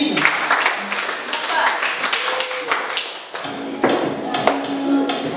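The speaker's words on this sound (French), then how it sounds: "On acclame pour Joachim." An audience claps and applauds for Joachim at an albinism awareness event, with a crisp, scattered patter of hands at moderate loudness, and a voice speaking over it.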